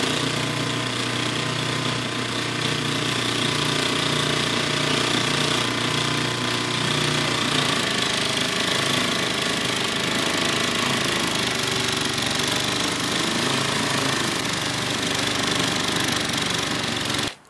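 Snow blower with a modified impeller running steadily, a loud continuous engine drone with a churning rattle that holds at the same level throughout, no voices.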